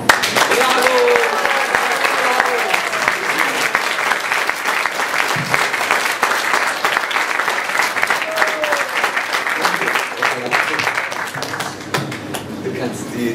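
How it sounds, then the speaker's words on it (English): Sustained audience applause from a seminar crowd, steady dense clapping throughout, loud and close, with faint voices mixed in. "I request you to give a full applause to Zvezdan."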